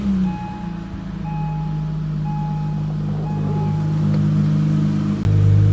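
A 2008 Acura MDX with the RV6 engine and a J-pipe exhaust fired up and idling, a steady deep rumble held loud and close through the whole stretch, with a brief shift in tone near the end.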